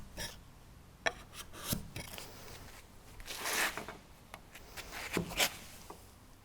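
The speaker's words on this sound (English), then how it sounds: "so I need to pare that back a little further." A hand chisel pares a timber frame tenon, scattered short scraping and rasping strokes of varying length against wood, close and fairly quiet with brief taps between.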